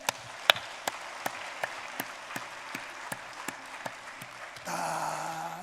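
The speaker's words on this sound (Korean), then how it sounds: "박수 한번 할까요?" A church congregation in a Korean Sunday service claps along in slow, evenly spaced beats, each clap distinct and moderately loud over a quiet room, ending in a brief swell of sound.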